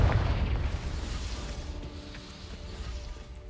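Confringo fire spell explodes in Hogwarts Legacy, a heavy booming burst up front that rumbles and decays into a low, crackling tail over a few seconds.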